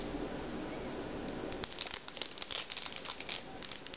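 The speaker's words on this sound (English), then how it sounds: "See if we can take off this shiny plastic." Shiny protective plastic film peeled off the border of an Eee PC T91 tablet's screen: a steady close crinkling rustle, turning into brighter crackly snaps and crinkles in the second half.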